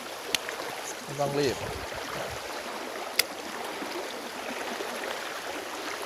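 A stream flows steadily at a fishing spot, a low, even rush of moving water heard throughout, with someone speaking briefly over it and a couple of sharp clicks.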